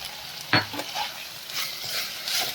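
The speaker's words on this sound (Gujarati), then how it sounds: "તો આપણા કેપ્સિકમ પણ થોડા હાફ કૂક થઈ જાય ત્યાં સુધી આપણે શેકી લઈશું" Onion, cabbage, capsicum and tomato sautéing in a pan for pasta, with a steady frying sizzle and one sharp stir or scrape of the spoon near the start. No one speaks.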